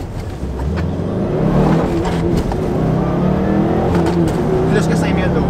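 Subaru STI with a Cobb Accessport accelerating hard through flat-foot shifts, a loud close engine roar with quick breaks between gears, voices calling out over it.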